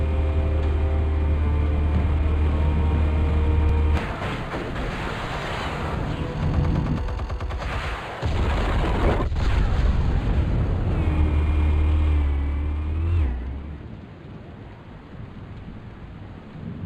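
Explosives detonate in the Batman Telltale video game, producing heavy booming rumbles and crackling blasts that swell and fade over a sustained droning tone.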